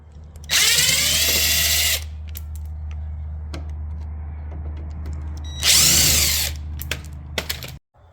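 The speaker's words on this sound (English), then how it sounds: "But I drilled it out" A power drill bores out a stuck fastener on a Honda Civic EF hatchback in two loud, close whining bursts, with quiet ratcheting and creaking handling noises between them.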